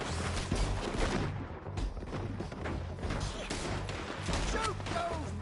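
Dense gunfire in a shootout, with volleys and sharp bangs crowding together under loud, chaotic background noise and shouting voices.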